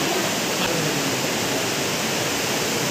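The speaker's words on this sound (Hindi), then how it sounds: "देखो टपकना स्टार्ट हो गया पूरे, और यहाँ पे गुफा है।" Steady, dense splashing of water inside the Tapkeshwar temple cave in Dehradun, a continuous rushing wash with no talk over it.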